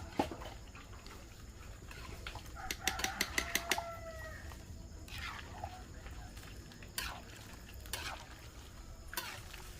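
Chickens at a countryside fiesta: a short burst of rapid clucks, scattered calls and occasional wing flaps over a low, noisy outdoor background.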